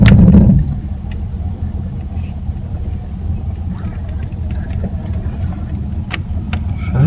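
A 1994 Ford Ranger engine misfires and lugs while climbing a hill in four-wheel drive, a loud, low uneven rumble that stays steady after a louder opening burst.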